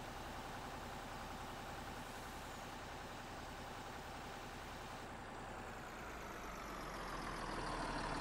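A tractor engine idles in Farming Simulator 22, a steady low mechanical drone that holds evenly throughout and swells slightly louder near the end, with no voices.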